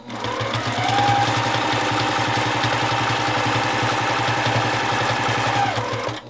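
A sewing machine free-motion quilting runs steadily at a fast, even stitching pace for several seconds, close and loud, with a brief slowdown near the end.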